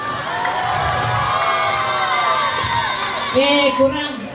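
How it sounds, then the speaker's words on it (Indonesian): A crowd at a traditional randai performance cheering and shouting for the MAN 1 Agam troupe, a busy wash of many voices with children's shouts and a few whoops rising near the end. "kita berikan tepuk tangan yang meriah untuk Mansatu Agam"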